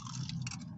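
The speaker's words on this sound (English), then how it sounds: "That's a nice crunch right there." Crunchy chewing of Popeyes fried chicken sounds close to the mic, a short burst of crisp bites and mastication with no talking.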